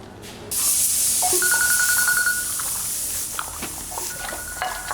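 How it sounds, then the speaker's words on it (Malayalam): A phone ringtone sounds in a home, a steady electronic tone lasting about a second, with a few shorter beeps later, all over a loud continuous hiss. "എന്റെ ഫോൺ അടിക്കുന്നു."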